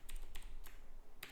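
A few quick, faint key taps on a computer keyboard, four short clicks spaced irregularly over a low background hum, with no talking.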